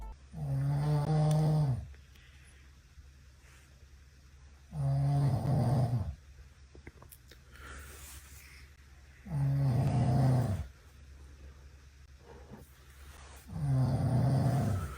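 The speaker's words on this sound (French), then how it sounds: "il s'agit de moi qui ronfle" A man snoring loudly at night, four long rasping, rumbling snores repeating at a slow steady rhythm with quiet breathing gaps between them, close and heavy, no talk.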